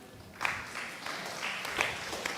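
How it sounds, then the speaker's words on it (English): Hands clapping in a teaching session, a few scattered claps ringing out over a steady, noisy room background with no one speaking. "And the easy thing is we can clap them."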